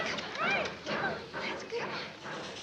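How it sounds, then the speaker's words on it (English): A trained buffalo-hunting dog barks and whimpers nearby in short yips and whines, a few bursts over a couple of seconds, fairly quiet amid rustling. "Trained buffalo dog smelled out another one."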